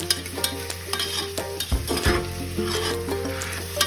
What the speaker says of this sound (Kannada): ಮೀಡಿಯಮ್ ಫ್ಲೇಮಲ್ಲಿಟ್ಟು ಮಶ್ರೂಮ್ನ ಬಾಡಿಸಿ